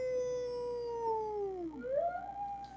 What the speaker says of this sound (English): Another nice long howl.